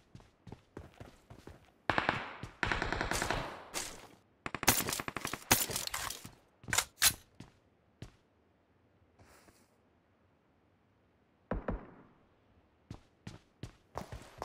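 Bursts of gunfire in the video game PUBG, coming from the roadside: loud rapid volleys and repeated single shots, with quieter gaps and footstep-like ticks between them.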